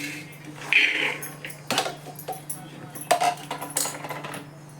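Soaked white peas tipped into a large pressure cooker, giving a cluster of dry rattling, clinking hits against the metal and a few scattered clatters, close and moderately loud over a low steady hum.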